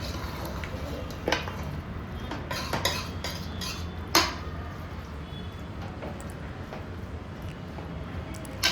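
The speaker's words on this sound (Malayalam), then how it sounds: "1 ടേബിൾ സ്പൂൺ മല്ലിപ്പൊടിയും എല്ലാം ചേർത്ത് നല്ലവണ്ണം ഒന്ന് വഴറ്റാം." A metal spoon stirs and sautés spices with coriander powder in a pan for an aloo mutton curry: scattered close clinks and scrapes against the pan over a low, steady background hum, with no talking.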